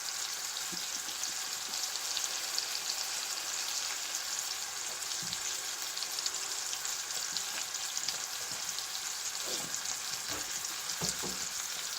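Burgers fry in a pan with a continuous crackling sizzle, scattered pops and small spatters over a constant hiss, close but fairly soft and without speech.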